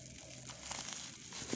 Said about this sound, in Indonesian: Jadi kita sobek aja bagiannya sininya.